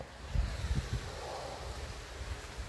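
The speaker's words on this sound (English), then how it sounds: "it's a little windy out today" Outdoor wind gusting against the microphone, with low rumbling buffets that are strongest early and then settle into a steady, moderate blustery noise.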